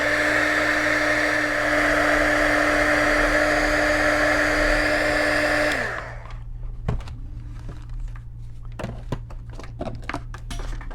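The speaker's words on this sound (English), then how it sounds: "I think I'm going to take my heat gun to it to try and speed things up here" A heat gun blows hot air onto drying paste on a DIY farmhouse barn-door porch shelf, a loud steady whirring roar with a high whine that cuts off partway, followed by quieter clicks and handling noises.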